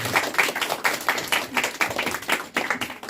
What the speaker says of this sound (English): We will give both of them a round of applause for covering akarma.